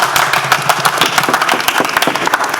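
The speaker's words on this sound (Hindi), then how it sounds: "तालियां।" An audience applauds at a stage play, a close, dense burst of many hands clapping in a steady patter with no speech over it.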